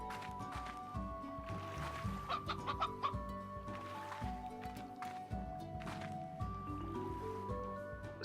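Chickens in the video game Slime Rancher cluck repeatedly, a busy overlapping chatter of short calls over steady game background sound.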